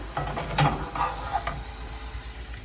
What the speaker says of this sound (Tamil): திருப்பி போட்டு நல்லா கிறிஸ்ப் ஆகிற வரைக்கும் ஃப்ரை பண்ணணும்.